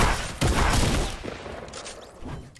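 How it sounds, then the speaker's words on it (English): A dense burst of rapid gunfire rattles on continuously in a Fortnite Season 9 match, loud and close, with overlapping shots throughout. "There's people shooting me."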